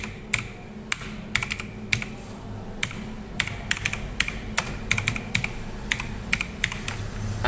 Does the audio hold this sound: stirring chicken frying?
no